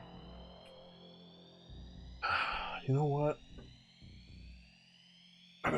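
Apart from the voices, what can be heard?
alarm sound effect played in a tabletop RPG session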